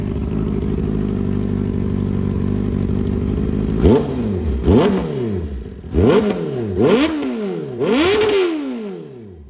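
A 2018 Honda CBR650R with about 22,000 km idles steadily, then is revved sharply five times, each throttle blip rising and falling back toward idle, close and loud.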